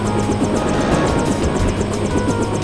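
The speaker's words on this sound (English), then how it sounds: "Wait by the chopper." A helicopter in the game Deus Ex, heard as a steady rotor thrum with a rhythmic beating chop and broadband engine noise, held at constant loudness throughout with no voices.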